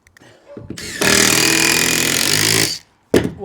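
A power screwdriver driving screws into a board on a garden room flat roof, with a brief whir followed by a loud sustained grinding drive of about two seconds and a short burst after.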